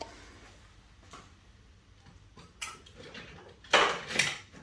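A few quiet metallic clanks and knocks of a large saucepan being picked up and set down, sharper near the end, in an otherwise quiet kitchen.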